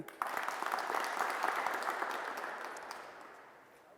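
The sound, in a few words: audience applause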